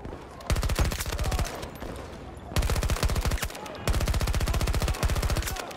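K30 submachine gun fire in Battlefield 2042, several loud, rapid full-auto bursts with an extreme rate of fire, separated by short pauses, with faint gameplay voices beneath.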